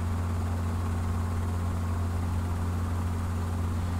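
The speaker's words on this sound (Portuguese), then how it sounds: "Eu só não sei como faz o helicóptero mais rápido." Helicopter flying in the American Marksman hunting video game, a steady low droning engine and rotor hum with constant loudness and no talk over it.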